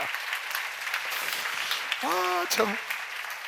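Steady applause from a seminar audience fills the clip, with a voice cutting in briefly near the end.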